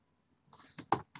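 Typing on a computer keyboard while writing Java code, a short burst of three or four close key clicks after a brief silence, no voices.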